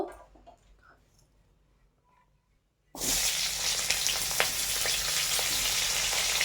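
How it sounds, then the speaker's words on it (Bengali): Cauliflower pieces fry in hot oil for a Bengali rohu fish curry. After a quiet start, a loud, steady sizzle bursts in about halfway through and continues evenly to the end. "ফুলকপিগুলো ভাজা হচ্ছে"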